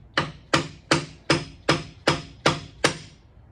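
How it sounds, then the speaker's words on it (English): A plastic-covered hammer taps the chuck of a 22-inch Reed-Prentice lathe in eight even, evenly spaced sharp knocks, each ringing briefly before the next, close and clear with no talking. "that's a plastic covered hammer, so it's safe on the way"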